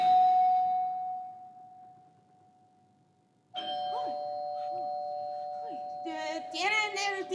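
Doorbell chime rings indoors, a sustained tone that fades, then sounds again layered with another voice-like tone amid muffled talk and busy higher tones.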